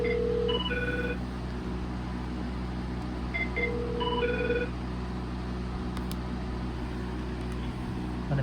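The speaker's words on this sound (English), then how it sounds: "So let me dial into it. Let me dial this right here." A Mitel 5360 IP phone dialing a call: a series of short, clear keypad tones in two quick clusters, heard over a constant low electrical hum with no talking.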